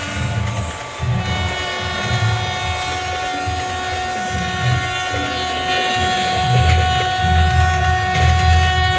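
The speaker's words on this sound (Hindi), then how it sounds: "हॉर्न देकर चलते हैं।" A loud train horn blows in long, sustained tones over a rumbling engine, with pulsing low thumps underneath throughout, from an express train in Trainz Simulator.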